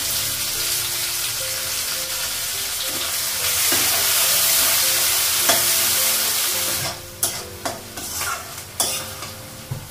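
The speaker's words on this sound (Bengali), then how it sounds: "পেঁয়াজটা ভাজা হয়ে গেছে" Onions and green chilies sizzle loudly in a pan with black cumin and whole cumin seeds, under constant stirring, then give way to sharp scraping clacks of a spatula against the pan.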